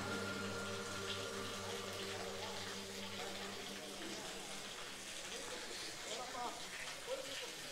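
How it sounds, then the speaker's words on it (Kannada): Spring water at Antharagange pours and splashes steadily close by, a continuous rushing flow with voices chattering in the background throughout. "ಸೊ ಇಲ್ಲೇ ನೀರು ಬರ್ತಾ ಇದೆ ನೋಡಿ."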